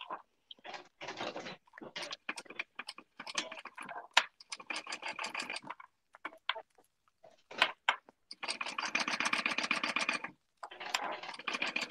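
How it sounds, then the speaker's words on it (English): A sewing machine stitches down both sides of a thick clear vinyl strap: close, rapid mechanical chatter in short bursts, then a longer steady run near the end. "I am going to stitch down both sides of this strap"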